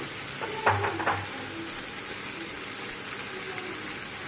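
Garlic paste sizzles steadily in hot oil in a frying pan for a rohu fish curry, with a few clinks of a spoon stirring near the start, close and continuous.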